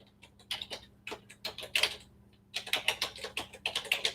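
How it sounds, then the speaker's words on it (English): Quick, uneven clatter of keystrokes on a computer keyboard, close and fairly clear, coming in short bursts with brief pauses and no talking over it. "If I don't screw up the typing"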